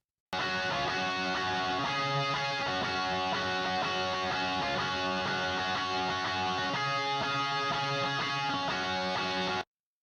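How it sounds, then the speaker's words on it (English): Layered electric guitars play a simple added part in the final chorus of a cover, lows and highs cut, a full sustained wall of sound running steadily throughout. "I just added another layer of guitar."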